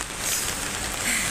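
Rain falls in Hong Kong as a steady, dense hiss of drops, close and even throughout the short stretch.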